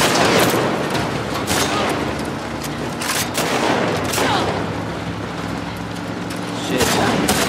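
Gunfire from a player's gun in The Last of Us Part II, dense bursts of loud shots and booms running continuously under frantic shouted voices.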